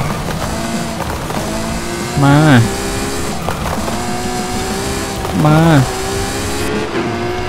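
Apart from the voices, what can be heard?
Ferrari FXX K race car engine in video game Forza Horizon 5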